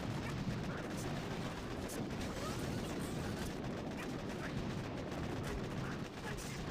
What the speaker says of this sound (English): So one barrage to try and clear those